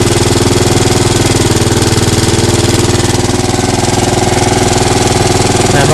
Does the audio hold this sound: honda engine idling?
yes